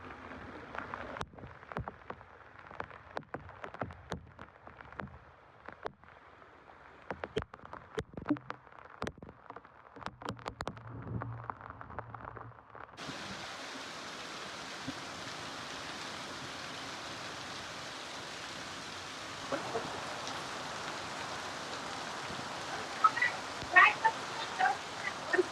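Rain easing off near a house: scattered, uneven ticks and taps at first, then a fuller, even hiss of falling rain that holds steady to the end.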